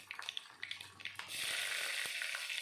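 Mustard seeds crackle and pop in hot oil, small sharp bursts giving way to a steady close sizzle.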